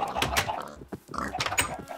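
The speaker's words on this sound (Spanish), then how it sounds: "¿A dónde vas tú, pinche puerco?" A Minecraft pig grunting and oinking in a few short nasal bursts, close and moderately loud, with no talk over it.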